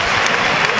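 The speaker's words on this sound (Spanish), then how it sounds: "Aplaude el derroche y la entrega de los jugadores" Audience applause for padel players at an exhibition match, a dense steady patter of clapping filling the whole short moment without voices.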